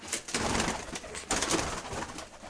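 Pigeons coo softly in a loft, a few low, faint repeated calls in short bursts, with no talk.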